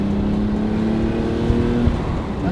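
A Nissan 300ZX engine strains under acceleration near boost cut, a steady loud close drone with a sustained low tone and a couple of brief thumps, no voices.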